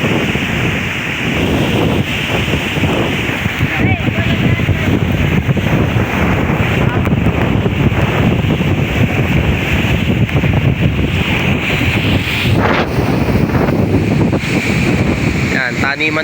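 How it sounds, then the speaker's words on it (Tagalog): Powerful Typhoon Kristine wind roars steadily and loudly across flooded farmland, buffeting the microphone for a long stretch with surging gusts and a water-like wash beneath. "Oh, malakas ang hangin."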